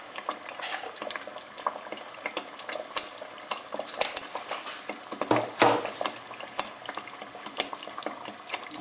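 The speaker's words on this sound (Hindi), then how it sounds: "अभी इनको थोड़ी देर भूनने के लिए मैं छोड़ दूँगा 10 से 15 मिनट हल्की आंच पे" Fish curry masala with crushed red chilli fries on low heat, a close bubbling sizzle with scattered crackles and a brief louder spatter midway.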